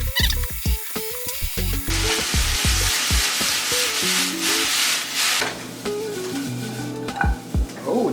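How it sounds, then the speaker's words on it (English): Baby spinach and bacon sizzle in a frying pan while a utensil stirs and scrapes against the pan in quick, uneven strokes. A steady frying hiss runs under the scraping. "I'm gonna put the baby spinach in the bacon place where it's been cooking. And then cook up some of that."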